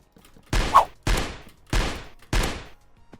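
Four loud sniper rifle shots in the Minecraft video game, each a sharp blast with a short decaying tail, fired at an even pace about every 0.6 seconds with nothing else in between.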